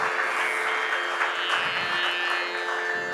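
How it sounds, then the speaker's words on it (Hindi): An audience applauding for an author at a Hindi book launch, an even spread of clapping held at moderate volume with a faint steady hum beneath, no voices over it. "ज़ोरदार तालियां।"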